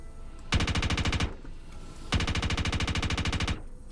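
Laser P90 gun firing in a video game: two loud, rapid bursts of evenly spaced automatic shots, each about a second long, separated by a short pause.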